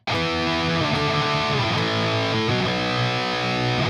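A metal electric guitar played through free distortion and saturation plugins, a dense, heavily saturated sustained chord with a few changes, loud and continuous throughout with no talk.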